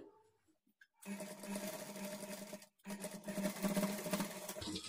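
A sewing machine stitches a blouse for a children's lehenga, buzzing loudly and steadily up close in two long runs split by a brief stop, after a few quiet handling taps at the start.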